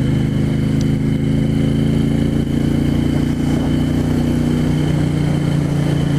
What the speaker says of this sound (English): the cadence of the engine is sweet and feels like it wants to romp